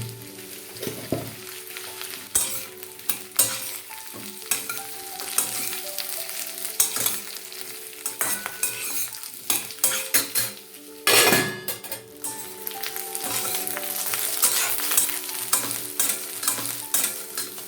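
Brinjal pieces get stirred into mixed vegetables in a pan, a metal spoon clanking and scraping against the pan in irregular bursts over a faint sizzle of frying.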